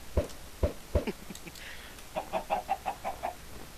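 Video game chickens cluck, starting with a few spaced clucks and then a quick run of about eight rhythmic clucks, moderately loud and alone.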